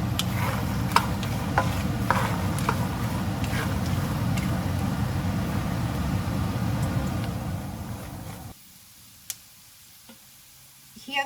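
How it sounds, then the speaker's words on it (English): Peanuts frying in a pan give a steady close sizzle with scattered sharp pops and crackles, which stops abruptly near the end, leaving near silence and a lone click. "Start to hear popping sounds."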